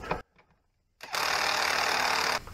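Tightening a bolt on a Yamaha TTR125LE dirt bike: after a brief click and a short quiet pause, a loud, steady mechanical whir runs for just over a second, then cuts off.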